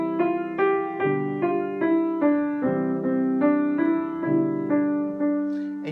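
A piano plays Ode to Joy with chords underneath and the right-hand melody voiced louder than the left hand, with steady even notes that sound close and clear, and no talking.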